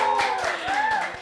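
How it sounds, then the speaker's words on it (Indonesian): An audience claps for arriving guest speakers at a youth talk event, a brief burst of dense, lively applause with a voice sounding over it. "Boleh tepuk tangannya paling meriah teman-teman semua."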